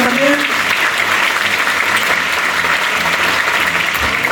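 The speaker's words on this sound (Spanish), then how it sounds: "quiero que le demos un aplauso a los organizadores de este evento" A crowd at an organization's 20th-anniversary event claps loudly and continuously, a dense, even wash of applause from a sizable audience, with a brief voice at the very start.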